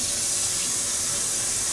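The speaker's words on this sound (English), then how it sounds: "I'm going to pour that in there. And then along with 3 cups of water." Water pouring steadily into the pot of a Ninja Combi cooker, a continuous close, bright splashing rush with no break and no voices.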